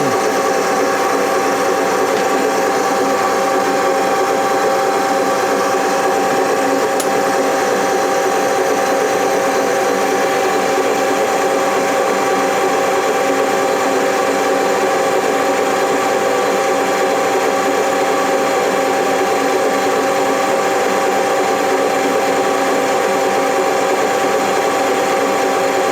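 A Colchester Student metal lathe runs steadily during screw cutting, giving a constant mechanical whine and hum of gears and spindle, loud, close and without pause throughout.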